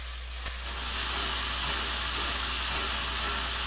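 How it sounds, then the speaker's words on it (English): Steam heat on a Southern Ps-4 #1401 steam locomotive in Trainz Railroad Simulator 2019 hisses in a steady, broad wash that swells slightly after a brief click, continuous and fairly close with no talk. "And then here we have our steam heat."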